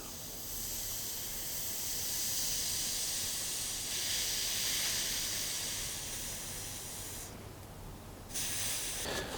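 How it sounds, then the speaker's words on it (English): A heated soldering iron pressed onto a damp rag to steam a scratch on a guitar, giving a steady close hiss that continues for several seconds, briefly dropping near the end before resuming. "take a damp rag and a heated soldering iron, and we're basically going to steam the scratch"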